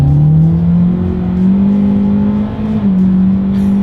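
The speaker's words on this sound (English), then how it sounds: "let's see how quickly we can get our new 2023 Elantra here up to speed" A 2023 Hyundai Elantra in sport driving mode accelerates hard from a rolling start, its engine note a loud, steady drone that climbs in pitch and holds high revs, dipping briefly near the end.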